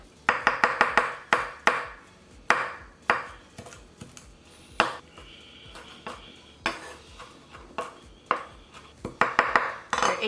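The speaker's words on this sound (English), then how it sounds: "Got some parsley here, and I'm gonna go ahead and chop this up." A knife chopping fresh parsley on a cutting board: quick bursts of sharp, rhythmic taps with brief pauses between runs, close and clear with no talking.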